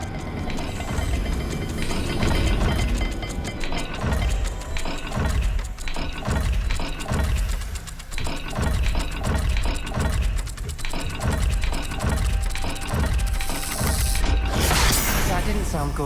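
Continuous clicking and ratcheting of a turning puzzle dial in Hogwarts Legacy, dense and busy with gear-like ticks, growing brighter near the end.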